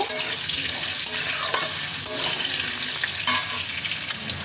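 Potato pieces frying in hot oil with a little salt, a steady close sizzle with occasional stirring scrapes, loud and continuous, no talking.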